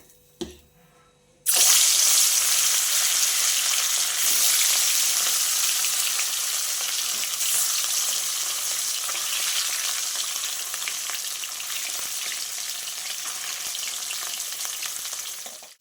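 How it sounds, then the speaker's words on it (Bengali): Loud, steady sizzling of katla fish frying in hot oil, beginning abruptly after a brief quiet moment and continuing dense and hissing throughout. "দেখো তেলটা গরম হয়ে গেছে মাছটা ভেজে নেবো এবার"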